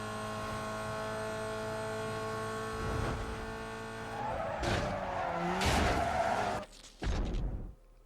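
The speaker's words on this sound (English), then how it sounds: "And I win and crash at the same time." In Need for Speed: Most Wanted (2005, PS2), a car engine holds a steady drone, then tires skid and squeal before a couple of sharp crash impacts near the end.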